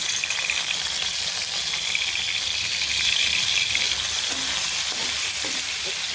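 Dried fish (lotte shutki) fries in hot oil in a pan, giving a continuous close, even sizzle with faint stirring and no talk.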